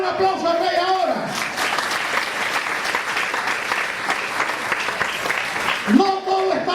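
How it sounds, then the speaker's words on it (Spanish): A church congregation breaks into sustained applause, loud and dense throughout, with a voice speaking briefly before the clapping swells and again as it fades near the end. "Den un aplauso al Rey ahora."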